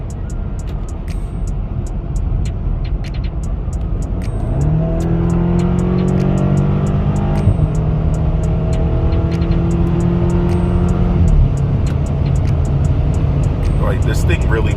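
BMW E70 X5M on H&R lowering springs accelerates from inside the cabin, a loud low engine drone rising steadily in pitch through a long pull, then easing off, with faint ticking clicks above it.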